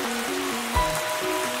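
Steady rain falls as a dense, even hiss throughout, with a soft musical tone layered over it and one brief low thump near the middle.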